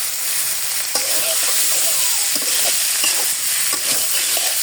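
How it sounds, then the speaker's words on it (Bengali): Potatoes and pointed gourd sizzle steadily in hot oil in a pan, with occasional clinks and scrapes of stirring over the constant, close frying hiss. "আলু পটলগুলো ভাজা দিয়ে দেবো"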